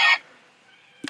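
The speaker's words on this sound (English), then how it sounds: "That's the sound of Agito's belt appearing," Kamen Rider Agito transformation belt toy, shown with a ZEZTZ Driver, gives a short burst of electronic effect sound at the start, fades into a quiet tail, then a second brief sharp chime near the end.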